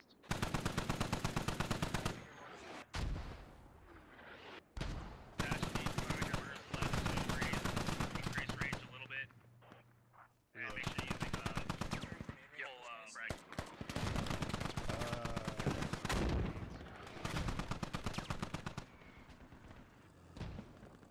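Long sustained bursts of heavy DShK machine gun fire from a militia position in the military shooter Squad, loud and pounding, broken by short pauses, with players talking over radio between volleys.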